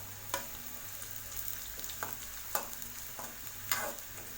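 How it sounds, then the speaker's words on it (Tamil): Curry leaves frying in oil for an egg masala gravy, giving a soft, even sizzle punctuated by several sharp spoon scrapes against the pan. "கருவேப்பிலை எண்ணெயில் நல்லா பொரிஞ்சிருச்சு"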